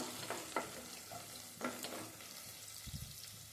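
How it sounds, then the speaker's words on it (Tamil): Onions frying in a pan for Madurai-style fish head curry, with a soft steady sizzle, a few close stirring scrapes and clinks, and no talking. "இப்போ வெங்காயம் நல்லா பொன்னிறமாக வதங்கிடுச்சு"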